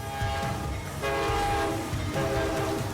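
A train passes close by, its horn blaring in loud sustained blasts over the rumble of the rail cars.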